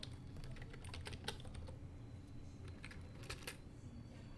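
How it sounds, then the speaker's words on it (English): Keys clatter on a computer keyboard as a password is typed, quiet, irregular clicks in short bursts against a low background hum. "now type in the password so that you can change it"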